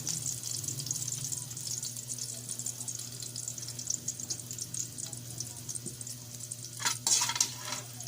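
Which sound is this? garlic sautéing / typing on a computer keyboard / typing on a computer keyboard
garlic sautéing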